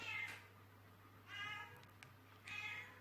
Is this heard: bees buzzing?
no